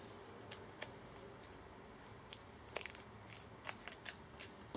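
Scissors snip a thin strip of tape in a quiet room, with a few sharp, faint clicks spaced irregularly over a soft background hiss.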